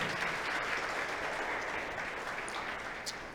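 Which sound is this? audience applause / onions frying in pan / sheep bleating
audience applause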